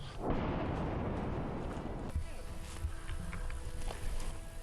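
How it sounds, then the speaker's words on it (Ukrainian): A loud, rumbling munition blast in the distance at the start, at the front line in New York, Ukraine, its roar decaying over a couple of seconds, followed by quieter distant thuds and background noise. "через декілька секунд вибухає ще один боєприпас."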